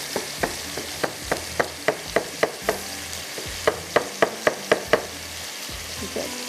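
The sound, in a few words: minced meat frying in a pan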